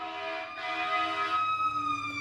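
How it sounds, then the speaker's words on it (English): An emergency vehicle siren wails steadily with a sweeping, rising tone, fairly close and sustained, with no talk over it. "Yep, nice sirens you got there, bud."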